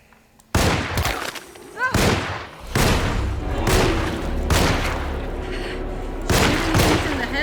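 Gunfire in the video game Alone in the Dark: a series of loud, booming shots in irregular succession, each with a ringing decay, over a low rumbling background.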